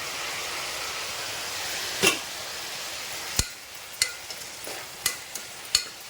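Green peas and ginger-garlic paste sautéing in a pan for white vegetable kurma, a steady soft frying hiss broken by several sharp scraping clinks of a spoon against the pan.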